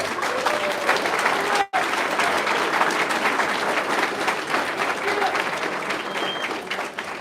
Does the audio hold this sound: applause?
yes